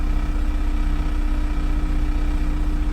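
A Honda S2000 with a misfire problem idles steadily for a few seconds, a low, even engine drone with a slight uneven throb running throughout and nobody talking.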